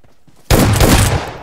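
Shotgun blast from an S12K in PUBG Mobile, a sudden loud burst after a quiet moment that rings on for about a second, with no talking.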